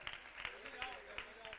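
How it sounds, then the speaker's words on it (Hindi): An audience at a religious discourse and worship gathering claps steadily and fairly softly beneath a voice speaking over a microphone. "तालियां बजाकर अनुमोदना करते चलें।"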